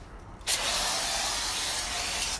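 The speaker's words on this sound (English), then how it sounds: "A bit of spray for her." An aerosol can of insect spray hisses steadily for about two seconds against mosquitoes, a close, continuous spray starting abruptly after a brief quiet moment.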